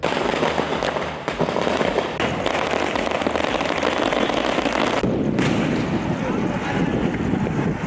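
New Year fireworks at a public celebration, a dense, loud stream of crackling bursts heard through heavy wind noise, continuous and rough throughout.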